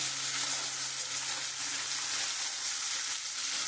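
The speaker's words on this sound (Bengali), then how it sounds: "এখানে দেখো পুঁটি মাছ আমি ভাজা বসিয়ে দিয়েছি" Puti fish frying in oil, a dense continuous sizzle heard close and steady with a faint low hum underneath.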